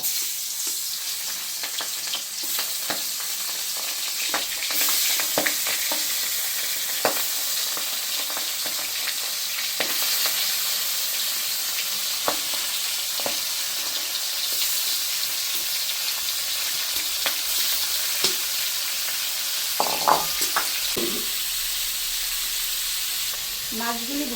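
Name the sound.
air fish frying in a wok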